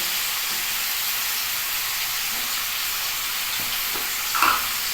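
A fish head fries in a pan with salt, giving a continuous bright sizzle and hiss as the water cooks off, close and steady throughout, with a brief louder spatter near the end.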